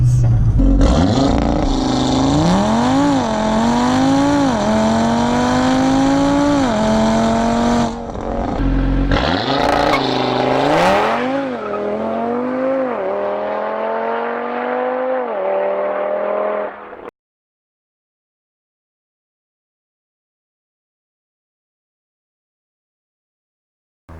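A tuned stock-turbo Audi RS3 engine roars as it launches hard from standstill, revs climbing and dropping through several quick gear shifts, loud and close, then cuts to silence.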